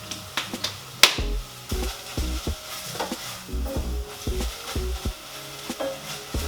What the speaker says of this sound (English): you're going to want to sweat that down until the onions are nice and brown, nice and caramelised